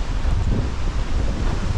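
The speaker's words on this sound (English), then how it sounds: "It's still really windy." Strong wind buffeting the microphone, a constant low roar with gusty rumbling and no voices.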